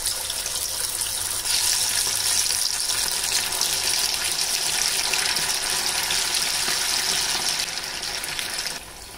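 Marinated chicken 65 pieces drop into hot oil and sizzle with a steady, loud hiss that holds near and constant, fading slightly at the end.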